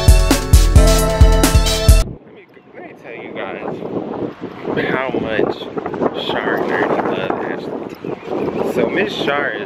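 Wind gusts buffet a microphone outdoors, rumbling unevenly after a brief burst of music, with people talking over it much of the time.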